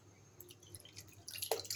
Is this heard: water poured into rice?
yes